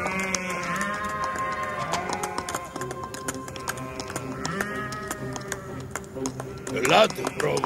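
Sheep bleat several times from close by, wavering calls overlapping with a voice speaking and light tapping, in a 1998 animated telling of Odysseus escaping the Cyclops's cave among the flock.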